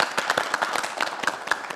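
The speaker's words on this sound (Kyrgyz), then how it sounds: "айымдарга келиңиздер, кол чаап коелу" A studio audience claps in dense, uneven bursts of applause during a Kyrgyz television talk show celebrating a spring holiday for women; the clapping is close and steady, with no talk over it.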